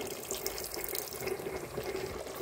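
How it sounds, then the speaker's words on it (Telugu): Steady running water pours continuously into a pan of malai chicken curry, a broad hissing splash with no voices, close and moderately loud throughout. "కొంచెం ఒక చిన్న గ్లాస్ వాటర్ యాడ్ చేసుకోవాలండి"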